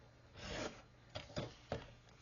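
Paper being trimmed down for a scrapbook layout, a few soft rasping cuts or slides, close but quiet, in short separate strokes with pauses between.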